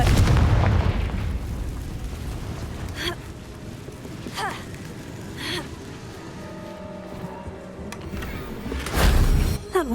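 A Confringo fire blast spell in Hogwarts Legacy lands with a heavy booming burst, followed by rumbling game ambience, a few sharp cracks and a second deep blast near the end.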